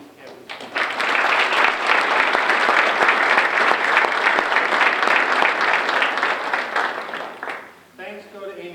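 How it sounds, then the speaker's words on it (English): An audience at an academic recognition ceremony breaks into warm, sustained applause lasting several seconds before fading, with a speaker's voice returning as it dies down. "Please join me in a round of applause in appreciation of these campus members."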